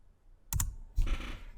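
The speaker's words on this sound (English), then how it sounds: "I'm going to type in linking SQL to Excel." A few quick keystrokes are tapped on a computer keyboard while a YouTube search is entered, two close clicks followed by a short soft burst of typing in a quiet room.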